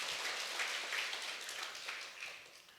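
A church congregation applauds during a worship service, a steady wash of many hands clapping at moderate distance that fades gradually toward the end.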